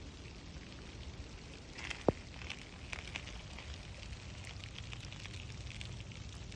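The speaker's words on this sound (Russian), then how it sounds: "Слышите, идет дождь, стучит по ней." Freezing rain patters steadily on an ice crust over asphalt on a St Petersburg street in December, a soft continuous hiss of tiny taps with one sharper click, with no voices.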